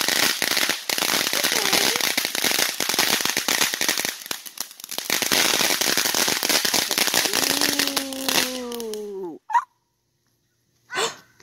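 A long barrage of crackling firecrackers and fireworks pops, dense and loud, then gobbling turkey-like calls as the bangs stop, followed by silence and one more call.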